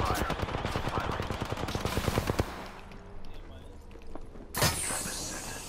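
Rapid automatic gunfire in the Apex Legends video game, a dense burst of shots for about two seconds, then quieter game sounds and a sharp later blast.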